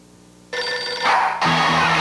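A telephone rings loudly in a commercial. Two bright, buzzing rings follow each other closely, alone and with no talk over them.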